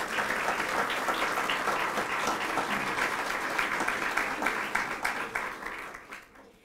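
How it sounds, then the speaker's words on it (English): Audience applause at a Ventura Chamber of Commerce State of Education event at Ventura College: dense, steady clapping from a large crowd that holds for several seconds, then thins and fades out near the end. "Now you may applaud."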